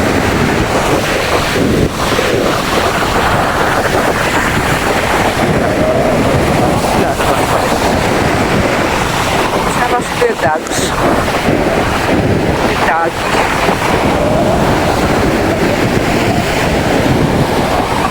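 Large ocean waves crash and roar continuously along a beach under strong wind, loud and close, with heavy wind buffeting the microphone.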